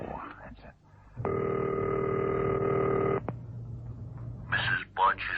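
A telephone rings after a number is dialed in an old-time radio drama about a New York City cab driver: one loud, steady ring tone holds for about two seconds, framed by voices just before and after.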